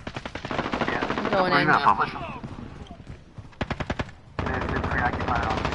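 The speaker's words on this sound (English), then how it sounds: "Where are they shooting from?" Machine gun bursts in a video game firefight, loud rapid volleys mixed with single shots, coming in clusters under frantic overlapping talk from players.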